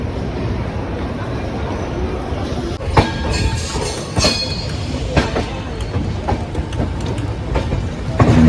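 A passenger train running on rails, heard from inside as a loud steady rumble with rhythmic clicks and clacks of the wheels over rail joints, growing busier midway.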